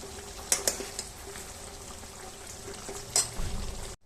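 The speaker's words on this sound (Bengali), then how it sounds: "এই দেখো শুকনো কর্নফ্লাওয়ার দিয়ে চিকেনগুলোকে আমি নেড়ে নিচ্ছি।" Chicken pieces coated in dry cornflour are stirred in a pan for a chilli chicken dish, giving a soft frying hiss with a few sharp scrapes and clinks of the utensil against the pan.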